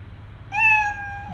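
The Scratch cat sprite gives a single clear, close meow when clicked in a kids' coding lesson, drawn out and fading softly at the end.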